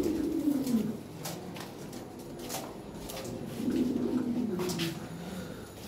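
Large Lahore pigeons coo in two low, rolling bouts separated by a quieter stretch, close by, with scattered faint clicks and rustles around them.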